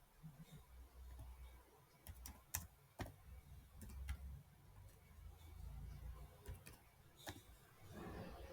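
Faint, irregular clicks of typing on a computer keyboard while values are entered into a notebook, with scattered sharper keystrokes over a quiet background.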